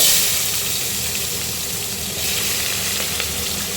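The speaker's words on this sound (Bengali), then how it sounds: "পেঁয়াজগুলো এবারে দিয়ে দিচ্ছি পেঁয়াজের টুকরোগুলো" Onion pieces fry in oil with cinnamon, cardamom and cloves, giving a loud, dense, continuous sizzle that holds steady from start to finish with no talking.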